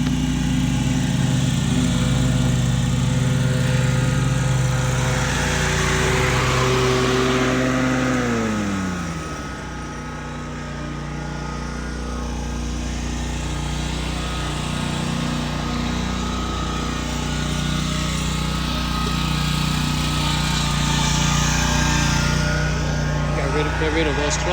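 A lawn mower cuts wet grass at a two-inch height, its engine droning loud and close, then the pitch drops and it settles into a steady lower running hum.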